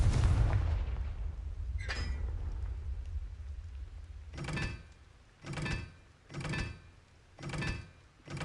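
A Confringo fire spell in the Hogwarts Legacy video game detonates as a series of four booming explosions, rhythmic and evenly spaced, after a loud rumbling opening blast and a sharper mid-clip crack, with no talk.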